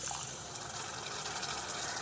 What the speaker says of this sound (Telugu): లైట్గా వేసాను వాటర్